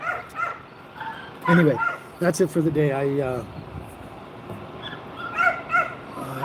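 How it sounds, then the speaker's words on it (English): Several dogs bark, yip and whimper in the background of a home setting, mostly in a burst around the middle, while a person keeps talking over them. "Now you probably hear my dogs in the background."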